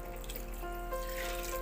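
Water runs from a tap or jug into a pan of spicy egg curry with fried onion and ground masala, a faint, steady trickle over quiet background hiss.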